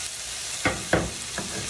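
Onion hitting hot butter with garlic, thyme and rosemary in a pan, a steady sizzle broken by three sharp bursts as the pieces drop in and get stirred, with no talking.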